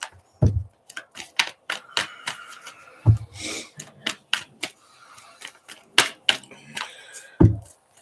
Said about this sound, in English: Let me get my deck, shuffle these cards up here real fast for you